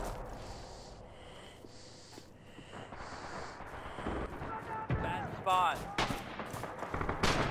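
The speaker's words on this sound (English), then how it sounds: "That's not a sniper, man. It's a machine gun." Machine gun fire in the World War II shooter Red Orchestra 2, with a sustained run of rapid broadband cracks that grows louder toward the end and plays under voices talking.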